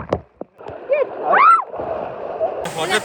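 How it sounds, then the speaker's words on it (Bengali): A sea wave surges onto the shore at Mirissa beach in Sri Lanka at high tide, a close, sustained rushing splash and slosh of water, with a voice crying out over it and a sharp burst of spray near the end. "হঠাৎ করে এমন ঢেউ আসে,"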